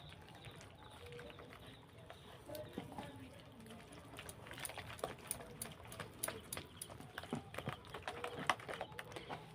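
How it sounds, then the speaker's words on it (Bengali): Gram flour (besan) batter is beaten with water in a bowl, giving quiet, rapid, wet slapping and clicking strokes that grow busier toward the end, with faint talk in the background. "ভালো করে ফাটিয়ে নেবো বেসনটা"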